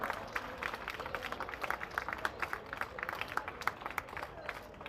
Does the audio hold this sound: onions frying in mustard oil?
no